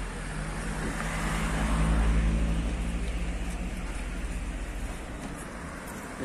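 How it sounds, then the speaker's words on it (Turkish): Road traffic flows along a town street in Turkey, a continuous wash of car and engine noise with one vehicle swelling louder as it passes nearby, then a steady background rumble. "Yine trafik akıyor."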